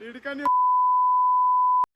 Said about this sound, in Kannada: ಇವ್ ಬೀಪ್ ಹಾಕ್ಬೇಕಾಗುತ್ತೆ